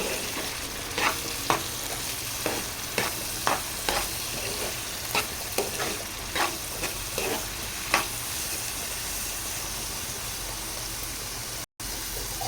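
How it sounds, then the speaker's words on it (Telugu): Chopped ivy gourd pieces sizzle steadily in a hot pan for an egg curry, with a spoon scraping and stirring in soft repeated strokes over the continuous frying hiss; no one speaks. "దొండకాయలు వేసిన తర్వాత ఒకసారి కలిపేసుకున్నాం"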